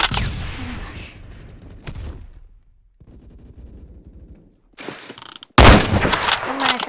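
Loud gunfire bursts from the Phantom Forces shooter game, rattling in quick clusters near the start and again in a dense, intense volley at the end, with quieter stretches between.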